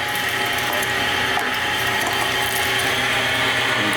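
Cold meat grinder churning beef for pepperoni, a steady close mechanical grinding and ratcheting whir running continuously without pause or voices.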